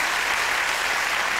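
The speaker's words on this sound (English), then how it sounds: "round of applause for them" Studio audience on a late-night talk show breaks into steady, dense applause, a continuous wash of clapping held at even loudness throughout with no talk over it.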